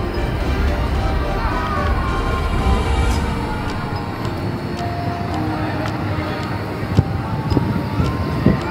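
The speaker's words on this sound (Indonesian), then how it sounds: "Angin berembus cukup kencang sekali." Strong wind roars steadily against the microphone outdoors during an air force academy cadet parade, a loud continuous rumble that fills the whole stretch.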